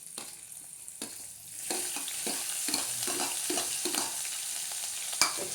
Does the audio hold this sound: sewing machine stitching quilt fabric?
no